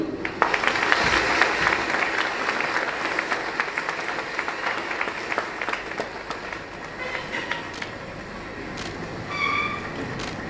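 Sustained audience applause at a ceremony honouring award recipients, a thick continuous roar of clapping that eases slightly toward the end, where a few brief tones cut through.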